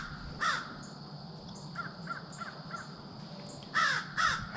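A crow caws outdoors, loud calls at the start and end with softer, fainter caws in between, over low steady background noise.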